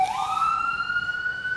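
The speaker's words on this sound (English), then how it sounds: "am I going to get a siren?" Emergency vehicle siren on a Toronto street, a single rising wail that climbs and then holds a steady high tone, loud and clear over faint street noise.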